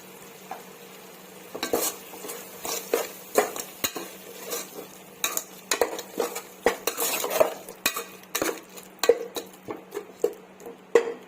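Spices and coriander powder being stirred in a pan for mushroom biryani, with a steady run of metal spoon scrapes and clinks against the pan over a faint low hum, no talking.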